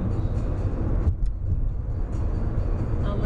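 A car driving on a US interstate near Knoxville, with steady close road and engine rumble heard from inside the cabin and a faint voice under the noise.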